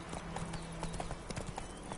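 Horse hooves clip-clop steadily in The Witcher 3 video game, a brisk, even trot of close hoofbeats over soft ambient background, with faint low sounds underneath.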